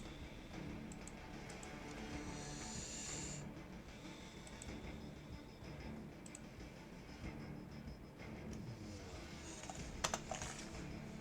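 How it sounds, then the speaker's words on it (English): Quick clickety-clack typing on a computer keyboard, a soft continuous patter of keystrokes over a steady background hum, with no talking. "Doing some clickety clacking in on the computer"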